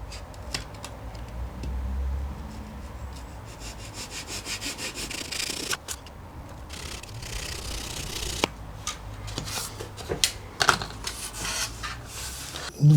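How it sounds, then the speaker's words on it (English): A fine-toothed razor saw cuts triangle pieces out of wooden model glider fuselage sides, rasping in steady back-and-forth strokes up close, with a few knocks and clicks near the end. "And I'm going to use my razor saw to do that."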